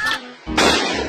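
A grenade explosion inside the Free Fire battle game: a sharp broadband boom about halfway through, followed by a rumbling, sustained burst, loud and close, after a shorter pop at the start.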